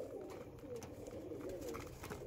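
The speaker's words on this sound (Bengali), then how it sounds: "তো পাট্টা পায়রা দেখাচ্ছি, প্রত্যেকটা পায়রার ওড়ানের গ্যারান্টি থাকবে" Patta pigeons cooing in a pigeon loft, soft low repeated coos layered together, faint and close, with a little background murmur.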